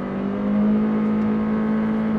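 A Honda CR-V with a 1.5 turbo engine and four-wheel drive pulls hard at full throttle, a steady high droning engine note heard from inside the car with no talk.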